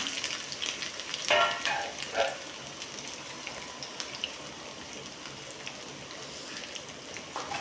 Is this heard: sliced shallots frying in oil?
yes